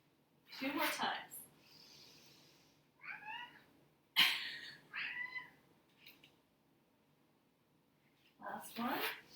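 A cat meows several times, short wavering cries spaced across a quiet indoor room during a beginner yoga class, with a person's voice speaking between them.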